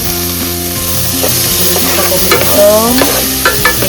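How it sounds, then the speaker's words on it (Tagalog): Ingredients sizzle and get stirred in a hot pan while browning for a beef stew, a steady close frying hiss with scraping utensil sounds throughout and no voices. "nagigisa rin ako para sa ating nilagang beef"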